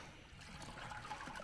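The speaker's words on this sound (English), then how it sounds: "I'll put some water in with this big kahuna" Water trickles and splashes faintly into a container holding yabbies outdoors, a soft continuous pouring sound at low volume.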